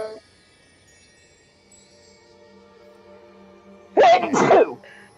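A single sharp human sneeze bursts out close up in two quick pulses, loud against an otherwise quiet room with faint background hum.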